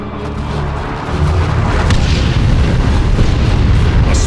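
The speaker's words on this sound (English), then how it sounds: "Launch barrage! Artillery! Clear the area!" A Dawn of War II artillery barrage, a dense continuous roar of heavy booming explosions building after a brief lull, loud and close with overlapping blasts and rumbling throughout.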